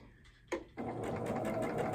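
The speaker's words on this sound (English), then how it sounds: "I tend to just sew on the line" A sewing machine stitches a quilt block. A short start is followed by a click, then the motor settles into a steady, close whirring run of rapid stitching.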